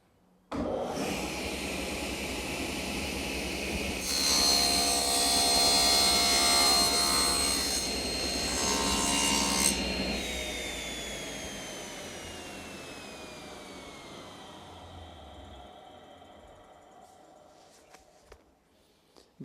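A table saw cuts angled wood stock clamped to the miter gauge: the motor spins up loudly, the blade bites through the board in a harsh sustained whine, then the saw winds down slowly into silence.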